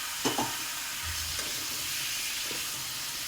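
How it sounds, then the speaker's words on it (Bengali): Taro stems and potatoes sautéed in a pan for a spicy prawn curry: a steady close hiss of frying with a few soft stirring scrapes and knocks, no voices. "এরপর সামনে কচু কচুর গাঠি আর আলু ভালো করে কষাবো"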